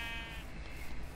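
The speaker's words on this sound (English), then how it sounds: "There's some sheep." Sheep bleating in the video game Minecraft, a short wavering call heard close and clear over a steady low background hum.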